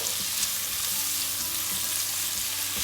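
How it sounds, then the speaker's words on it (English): Cashew nut curry ingredients with turmeric powder fry in a pan, giving an even, steady sizzle heard up close, with occasional soft stirring scrapes and no talking. "Let's fry it nicely until it becomes nice and soft and the rawness needs to go away."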